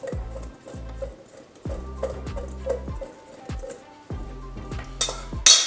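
Paneer cubes tossed with seasoning in a bowl, giving repeated clattering scrapes and knocks in short bursts, close and fairly loud with no talking.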